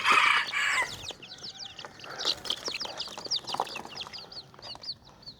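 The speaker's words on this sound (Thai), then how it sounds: "ลูกไก่ป่า" Wild junglefowl chicks chirp in rapid, repeated high peeps at close range, with soft hen clucks beneath, after a brief louder squawk at the start.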